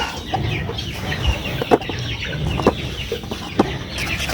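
Egg-laying chickens kept in a coop with cardboard nesting spots, clucking nearby in short repeated calls over a busy background of rustling and movement.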